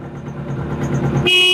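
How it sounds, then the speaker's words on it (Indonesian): A 1978 Suzuki GP 100 motorcycle engine idles with a low hum, then a loud, steady horn blares in close at the end. "Klakson, Pak."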